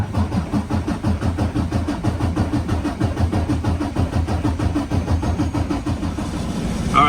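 A Freightliner Cascadia's DD15 diesel engine with a common-rail fuel leak runs with a steady, loud, rhythmic low clatter throughout, nearby and with no talking.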